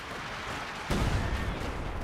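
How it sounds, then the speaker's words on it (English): An officer artillery strike lands in Company of Heroes 2, a sudden heavy boom breaking in partway through and rolling on as a dense rumbling barrage of impacts. "We do have, looks like a officer artillery being brought on in"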